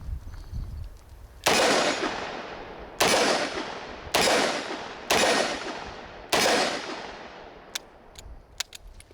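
Five loud, sharp revolver shots of .357 Magnum rounds, spaced irregularly about a second apart, each ringing out with a long decaying tail, followed by a few small metallic clicks.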